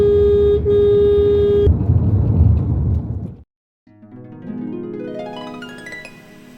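A car backing up and pulling away after grocery shopping: a steady tone and engine rumble, a brief gap, then the engine revving up with rising pitch as it drives off.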